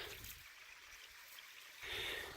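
Small waterfall trickling in a spring stream in Nevada, a steady soft wash of running water that swells louder near the end, heard alone at close range.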